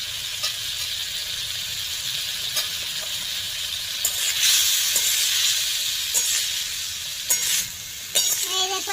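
Fish sizzling and frying in a pan while garam masala powder goes in, a steady close hiss broken by occasional sharper spatters and stirring scrapes, with no talking.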